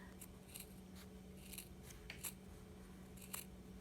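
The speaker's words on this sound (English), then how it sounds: "I don't know if these scissors are as sharp as my other ones" Several quick snips of scissors cutting through fabric, close up and crisp, in irregular bursts with short pauses between them, no talking.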